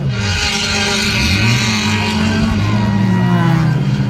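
Citroën Saxo and Renault Clio rally cars race at Vendrenne, their engines revving and shifting pitch as they accelerate hard and pass close by, loud and strained, with a faint voice in the background.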